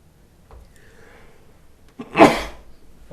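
A single loud sneeze bursts out in a quiet meeting room, sharp onset followed by a noisy breathy decay, after a soft intake of breath.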